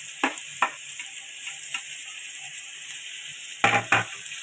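Finely chopped tomato and capsicum fry in a pan with a steady low sizzle, punctuated by a few sharp spatula knocks and scrapes, two near the start and two louder ones near the end.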